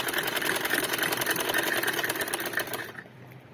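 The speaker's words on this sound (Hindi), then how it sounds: "ये एक तरफ से सिलाई मेरी पूरी होने वाली है।" A sewing machine stitches along one side of a fabric cover, running as a steady, close, rapid mechanical whir for nearly three seconds before stopping abruptly into a quieter room hum.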